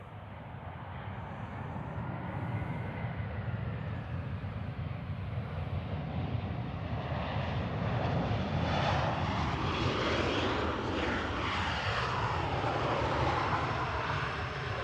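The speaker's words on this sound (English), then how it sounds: "Quite an old A320 classic, that at 21 years old" A 21-year-old Iberia Airbus A320 classic arriving from Madrid at Manchester Airport, jet engine roar swelling from moderate to louder and steady as it approaches, no talk.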